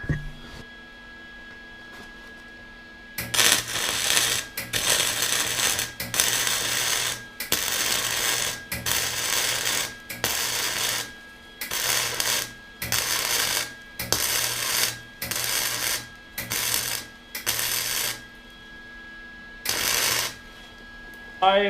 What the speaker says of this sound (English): When I was welding that, why I just was on and off the trigger.